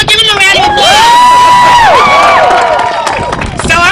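A crowd cheers and whoops for a group of youth performers, loud, continuous and close, with shouting voices layered over the clapping and cheers.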